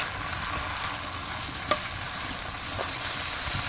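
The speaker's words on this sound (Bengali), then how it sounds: "নাড়াচাড়া দিয়ে নিই।" Pui shak greens and garlic frying in a pan are stirred, giving a faint steady sizzle with a sharp utensil clink near the middle and softer scrapes.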